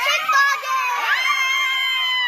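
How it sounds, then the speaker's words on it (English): Children cheer and shout together in a school classroom, a loud, close burst of excited young voices rising and falling across a couple of seconds. "kids work together to earn compliments, and so they're cheering each other on"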